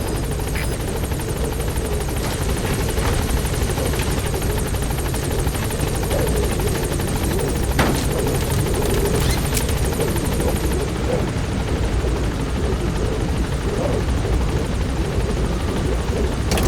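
B-Quad helicopter from Metal Gear Solid V hovering at a landing zone: a steady, loud rotor drone and engine whine fill the whole stretch, close and unbroken.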